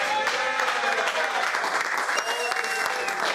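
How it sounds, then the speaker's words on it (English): A studio audience applauds Pete Davidson with dense, steady clapping that holds at an even level from start to finish, with no pauses. "Let's have a round of applause for Pete Davidson"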